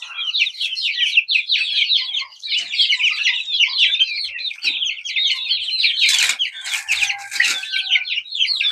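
Several chickens cluck and chirp in a busy, overlapping chorus, fairly close, with a few sharper squawks toward the end.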